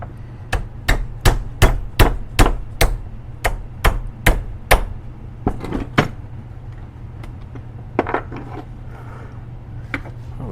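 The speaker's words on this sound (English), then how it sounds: "here's my hammer on the floor where I left it" A hammer drives a new pin into place, striking about a dozen sharp, evenly spaced blows, then a few scattered, lighter taps, all close up over a steady low hum.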